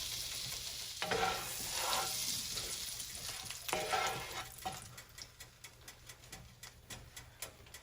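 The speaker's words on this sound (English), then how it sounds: "our butter's melting with our pieces of the steak there" Pieces of steak fry in melting butter in a pan, a steady soft sizzle with occasional stirring scrapes and a run of quick ticking taps toward the end.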